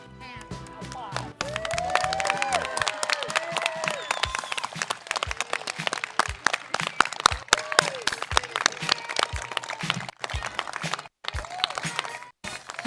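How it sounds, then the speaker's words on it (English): Audience applause for a graduating respiratory care class of 2021 at a college graduation ceremony, a dense, sustained wash of many hands clapping with scattered cheers and voices mixed in, steady and fairly loud for the full stretch. "I'd like our audience to give them a hearty applause"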